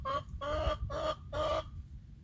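A hen near a nesting box gives three loud, drawn-out clucking calls in steady succession, close by, over a low background rumble.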